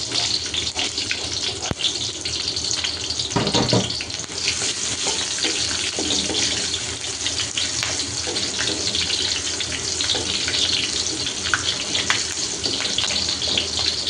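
Onion and chili dropped into hot oil, a loud, steady hissing sizzle that fills the whole stretch with a brief burst of extra crackle early on, close up and without voices.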